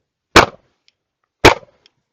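Two loud, sharp pistol shots from an Alpha Foxtrot AF-C with an aluminum frame, about a second apart, each a hard crack with a brief echo tail and no talk.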